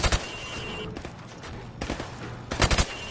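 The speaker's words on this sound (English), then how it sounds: "Now, shoot each target while aiming down the sight." Rifle fire at a shooting range in Call of Duty Modern Warfare Remastered: sharp shots cracking in short clustered bursts, a couple at the start and a rapid volley near the end, loud and close.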